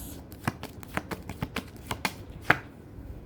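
A deck of tarot cards being shuffled close up, a run of crisp papery riffles and slaps at an uneven rhythm, with a sharper snap near the end before it goes quiet.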